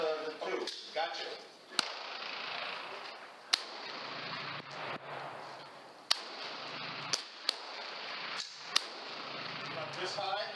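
A Hatsan PileDriver 457 air rifle fired on a range, heard as sharp, brief cracks recurring at irregular intervals, with other shots and people talking mixed into a busy outdoor background.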